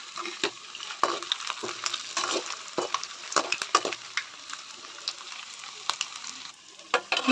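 Cauliflower (gobi) fries in a pan with a lively, close sizzle broken by frequent crackles and pops, plus the scrape and clatter of stirring.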